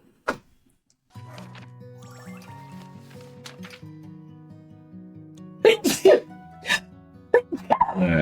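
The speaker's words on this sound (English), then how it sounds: "Excuse me, folks. I'm about to sneeze." A single sharp sneeze after a stretch of soft musical tones, followed by a few brief vocal sounds.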